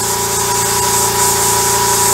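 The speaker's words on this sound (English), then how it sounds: "Mr. Compressor makes noise from down there, which is annoying" An air compressor running nearby while a German WW2 Sd.Kfz.251 model is spray painted, giving a loud, steady mechanical drone with a constant hum and no breaks.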